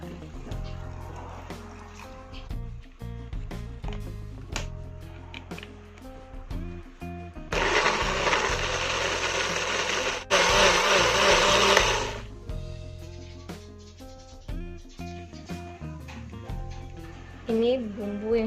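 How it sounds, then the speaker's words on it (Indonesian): Kitchen blender grinding spice paste with a little water for Acehnese red-cooked beef, a loud, dense whir that runs about five seconds in two bursts with a short break, amid clatter and talking before and after. "kita akan memblender bumbu yang akan dihaluskan. Kita tambahkan sedikit air."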